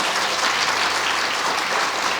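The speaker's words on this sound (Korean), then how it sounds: "대표로 우리 김은정 권사님에게 우리 큰 박수 부탁드리겠습니다" A church congregation applauding at a Christmas service, a loud, dense and even wash of many clapping hands that holds steady throughout.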